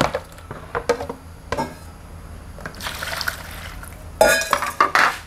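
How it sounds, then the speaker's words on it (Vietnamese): Chicken breast being washed in fresh water in a bowl, with intermittent splashing, sloshing and clinks against the bowl in irregular bursts, close and moderately loud, with no talk. "đổ nước mới nha, để em rửa cho nó sạch nha."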